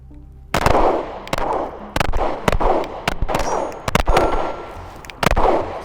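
Five sharp pistol shots from a Glock 19 clone ring out at an unsteady pace, each loud crack followed by a short ringing decay, with a faint hiss of background noise between shots.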